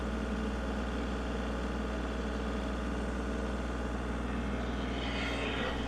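A steady, loud John Deere 3035e four-wheel-drive tractor engine drones without pause, a low rumbling idle with a mechanical hum running throughout.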